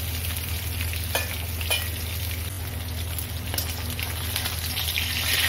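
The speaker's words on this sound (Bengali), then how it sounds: "এবার কড়াইতে তেল দিয়ে দিচ্ছি। তেলটা গরম হয়ে গেছে। এবার আমি এক এক করে মাছগুলো দিয়ে দেব।" Fish pieces fry in hot oil in a wok for a ridge gourd fish curry, giving a steady, close sizzle with scattered sharp crackles and pops.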